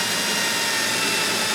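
A power drill drives self-tapping sheet metal screws into car bodywork, a loud steady high-pitched whine that holds without a break.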